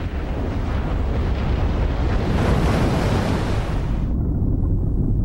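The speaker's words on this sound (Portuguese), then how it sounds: "O terremoto provocou uma onda gigantesca que engolfou Alexandria." A giant ocean wave sweeping over a coastal city, heard as a loud, continuous roaring rush of water and wind that swells midway and then drops away.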